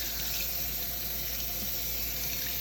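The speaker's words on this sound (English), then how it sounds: "Now I go through the rinse on the first shampoo." Tap water pours loud and steady, close up, as a kitten at a Maine Coon cattery is rinsed during its bath, a continuous rushing splash with no break and no voices.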